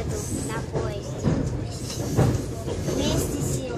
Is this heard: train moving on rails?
yes